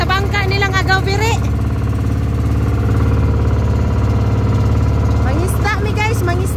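A fishing boat's engine drones steadily and loudly at close range throughout, a constant low rumble with voices talking over it.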